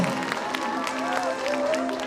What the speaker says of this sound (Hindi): एक बार जरा जोरदार तालियां इनके सबके लिए।